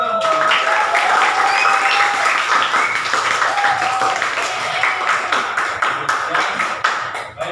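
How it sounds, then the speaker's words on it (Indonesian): Audience at a teacher-training class session clapping hands in a steady, dense round that lasts throughout, fairly close and loud, with a faint voice murmuring underneath. "coba kita tepuk tangan untuk kita semua"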